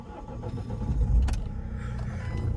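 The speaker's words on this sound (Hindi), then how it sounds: "अपना गाड़ी को करते हैं स्टार्ट" A Mahindra XUV500 diesel SUV with about 228,000 km on it starts up from neutral on a hillside. The engine turns over and settles into a steady, close low rumble, with a brief louder catch near the middle.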